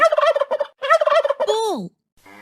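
A farm turkey gobbles loudly and close, two rapid warbling bursts followed by a falling call and a brief fainter note, with no talk over it.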